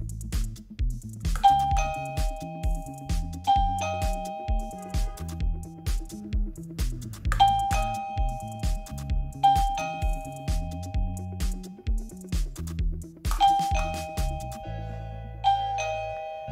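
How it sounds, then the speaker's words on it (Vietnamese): LINPTECH LP100SW battery-free wireless doorbell chimes repeatedly, several ding-dong melodies in sequence over a steady backdrop of low tones, each chime ringing out clear and close with sustained tonal notes. "Thì bây giờ mình sẽ test là ấn bất kỳ một nút bấm nào thì cả 2 loa chuông đều kêu."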